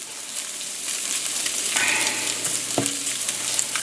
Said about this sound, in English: that stuff's got a pretty good fry going on now